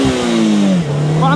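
A Polaris Slingshot launches hard with a spinning rear wheel, its engine note rising loud and close, then dipping briefly at a shift or loss of grip before climbing again, with a voice talking over it.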